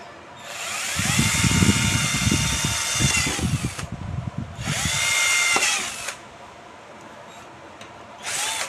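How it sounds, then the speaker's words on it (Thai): A power drill whines in two long bursts with a grinding, buzzing bite as it bores a hole through a Canon MP287 printer casing, close and loud, then stops. "ก็เจาะเข้าไป"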